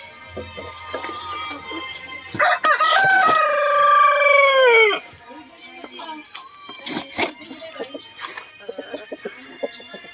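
Backyard chickens, a black Australorp mix, cluck nearby while a rooster lets out a loud, drawn-out crow in the middle, followed by scattered clucks and scratching sounds.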